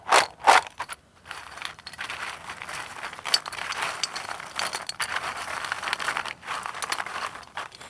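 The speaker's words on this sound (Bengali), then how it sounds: "এবার সব কিছু খুব ভালোভাবে মিশিয়ে নেব" Crunchy spiced flattened-rice kurkure being tossed and mixed with salt and Kashmiri chilli powder in a bowl, producing close, irregular crinkling and rustling crunches with a few sharper bursts at the start.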